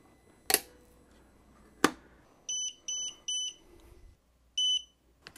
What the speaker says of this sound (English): So we heard the beep.